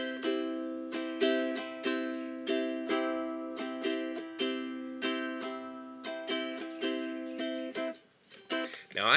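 Ukulele played slowly in a calypso strumming pattern, the down and up strokes spaced out into an even, bouncy rhythm of ringing chords, close and clear, ending in a few scratchy, muffled strums.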